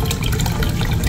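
Water poured into a fish tank or pond after acclimating a new fish, a steady close splashing and gurgling rush that stays loud and even throughout with no talk.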